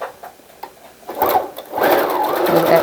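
A sewing machine stitches photo picture cards for junk journals in short bursts that grow louder and steadier near the end. Faint rustling handling sounds come first.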